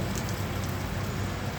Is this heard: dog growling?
no